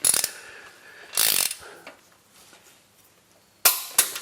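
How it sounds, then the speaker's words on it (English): A torque wrench tightening the main bearing caps on a Toyota 4A-GE 20-valve engine block for an AW11 MR2, rapid ratcheting bursts close by, a longer run and then two short sharp clicks. "I'm just torquing them up to 43 pound-feet."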